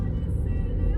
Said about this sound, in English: I've driven directly into the traffic jam.